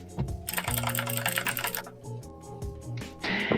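Computer keyboard typing during a podcast recording, a dense rapid patter of key clicks running steadily throughout and mixed with tonal background sound.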